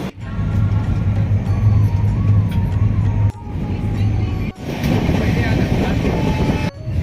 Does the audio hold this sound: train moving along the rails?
yes